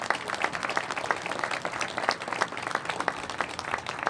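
An audience at a fire station ribbon cutting claps for the Ward 6 commissioners in a steady, moderately distant burst of applause from a crowd that continues throughout.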